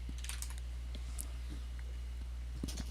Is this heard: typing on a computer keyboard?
yes